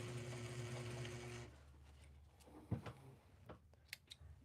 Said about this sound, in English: I literally am just sewing in an arc